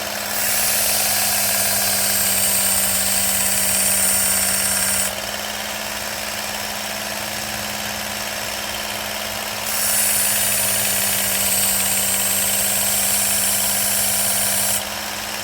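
A Work Sharp Ken Onion belt knife sharpener runs with a steady motor hum and belt whir, close and loud, with the grinding tone shifting in two spells as a blade meets the belt.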